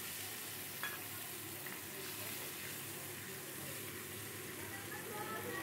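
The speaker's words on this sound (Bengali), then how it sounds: "এখানে সাদা জিরে আর শুকনো লঙ্কা ফোড়ন দিই, টমেটো দিয়ে মশলাটা দিয়ে দিলাম।" Cumin seeds, dried chillies and tomato masala fry in hot oil, giving a steady, dense sizzling hiss that holds throughout, with a faint tap of a utensil now and then.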